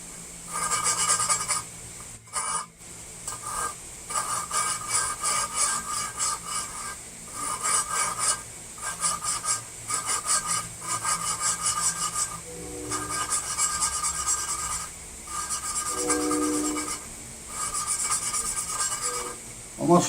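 A valve on a Ford cylinder head being hand-lapped with grinding compound: steady back-and-forth gritty rubbing strokes with brief pauses as the valve is lifted, close by, with an occasional faint voice.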